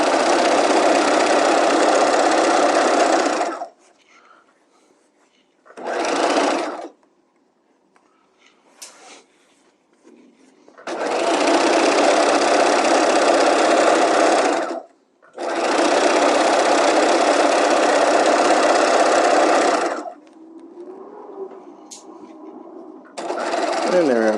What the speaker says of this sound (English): sew in the sleeve to the armhole